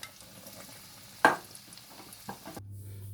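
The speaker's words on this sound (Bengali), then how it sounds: "তখন আমি তেলে ছাড়ছি, আস্তে করে তেলে ছেড়ে দেবে এরকম" Cheesy bread pakora lowered into hot oil, a quiet sizzle with a sharp splashing burst near the start and a few light taps, then a low steady hum.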